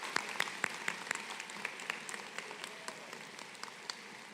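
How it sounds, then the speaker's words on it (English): Scattered applause from a commencement audience at Odessa High School, honoring parents and community members who funded the new facility; sparse, distant claps with a few sharper individual hits, fairly faint throughout. "So let's give them a nice round of applause."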